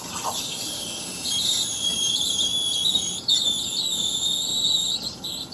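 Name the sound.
Breville Barista Express steam wand spinning milk in jug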